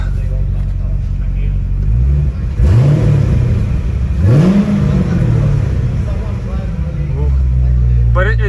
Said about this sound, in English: The whole car moves every time I rev it.